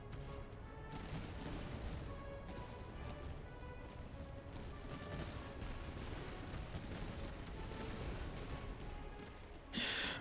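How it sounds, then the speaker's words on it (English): Massed musket volleys from redcoat infantry in the strategy game Master of Command, a dense, continuous crackle of gunfire and booms filling the whole stretch, ending in a louder burst. "We're going to get shot up by these redcoats."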